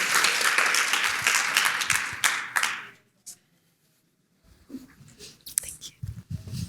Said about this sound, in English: please join me in a big round of applause for Mark and Jamie to kick off this workshop